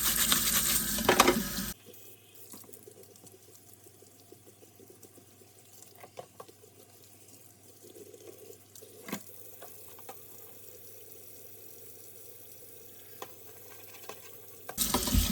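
Someone scrubs stuck-on grease off a Ninja Foodi splatter shield with just water, a steady wet scratching and rubbing with a few sharper scrapes, close and fairly quiet, bracketed by louder bursts at the start and end.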